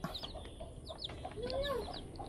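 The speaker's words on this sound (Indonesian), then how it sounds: "Ayam, ayam, ayam." Chickens clucking softly during a rescue of chicks from a height, a scatter of short chirps and a brief rising cheep, faint and close.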